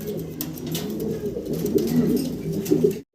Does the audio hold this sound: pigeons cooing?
yes